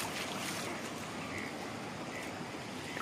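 Floodwater surges over a bridge in a village, a steady broad rushing roar with no breaks, fairly close and even in level, heard alone without voices.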